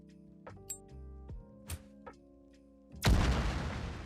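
A grenade explodes in an Unreal Engine 5 game, a sudden loud broadband blast with a sustained rumbling decay, preceded by a few light clicks and thuds of the throw over a low steady hum.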